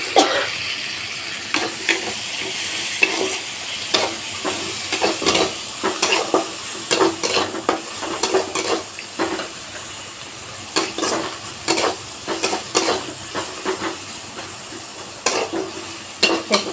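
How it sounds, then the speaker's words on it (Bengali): Browned onions and chopped tomatoes fry in a pan for pulao, giving a steady close sizzle broken by frequent sharp scraping strokes of stirring, with no voices. "পেঁয়াজটা বাদামি কালার হয়ে গেছে, এর মধ্যে দিয়ে দেবো টমেটো কুচি।"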